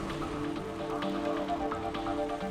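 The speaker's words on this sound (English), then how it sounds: "Over time, this rained back down onto the cooling Earth." Rain falling steadily onto the surface of the cooling early Earth, a dense patter of droplets over a low continuous hum.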